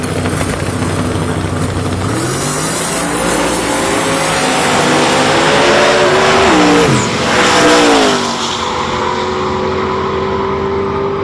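Drag race cars launch off the line at the Christmas Tree Drag Race World Championship, their engines rising in a loud, sustained roar with pitch climbing and wavering as they accelerate, then easing back toward a steady drone.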